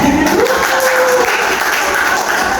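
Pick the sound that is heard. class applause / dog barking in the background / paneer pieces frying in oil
class applause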